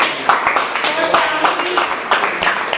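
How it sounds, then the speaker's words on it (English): A Toastmasters club audience in Metro Manila claps, brisk, close hand claps forming a lively patter with sharp individual strikes, while someone speaks through the applause. "Let's give everyone a big round of applause."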